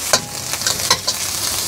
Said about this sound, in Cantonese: 咁我哋又係攞翻少少生油先，爆一爆呢啲瑤柱乾。